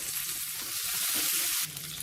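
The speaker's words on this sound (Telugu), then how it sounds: "వీటిని మంచి కలర్ వచ్చే వరకు ఫ్రై చేసుకోవాలి." Lentils frying in hot oil give a steady, close crackling sizzle that continues for about two seconds with no voices.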